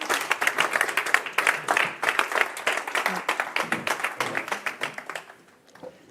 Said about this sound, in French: On peut les applaudir aussi extrêmement fort